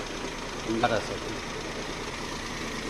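A Maruti Alto's engine idles with the AC switched on, giving a steady low rumble and vibration throughout, with a brief spoken word near the start.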